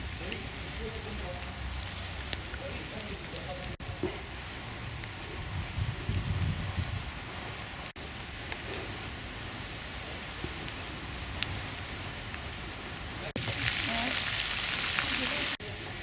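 Light rain beginning to fall outdoors in a town neighborhood, a soft, even patter and hiss of drops on surfaces throughout, with a brief louder burst of hiss near the end.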